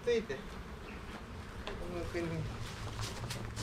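Honey bees buzzing around a hive, a few nearby bees droning past in short passes over a faint hum, while people talk quietly in the background.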